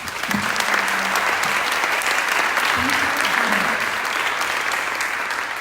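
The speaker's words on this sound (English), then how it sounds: "I think they deserve a big round of applause" Conference audience at a retail-future business talk gives a steady, full round of applause, loud and continuous for several seconds, with a voice briefly heard beneath the clapping.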